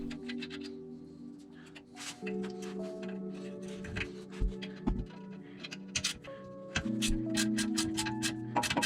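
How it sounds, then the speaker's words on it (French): A ratchet with a 13 mm socket loosens the front brake caliper bolts on a SEAT Ateca, giving close rapid ticking clicks in short bursts over a faint steady hum. "Commençons par dévisser les deux vis de l'étrier."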